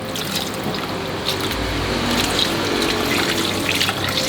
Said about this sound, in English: we're gonna put this under running water and wash the bones one more time thoroughly through